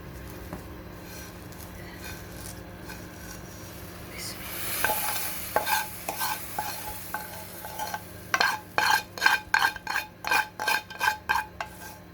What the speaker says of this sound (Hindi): अब इसमें सोइयां डालेंगे।